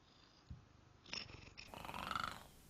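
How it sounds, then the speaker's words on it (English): A large cat purrs in a played-back recording, a soft rumbling purr that builds and grows louder over a couple of seconds, heard close with some background noise. "Giant kitty."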